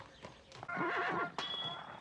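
A horse gives a loud, wavering whinny, with a few soft hoof knocks and rustles before it and a brief snort after.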